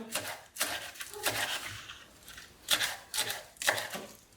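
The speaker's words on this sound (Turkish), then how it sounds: "Aynı şekilde maydanozlarımı da ince ince kıyıyorum." Rapid knife chopping of parsley on a board in several quick bursts separated by short pauses, close and crisp.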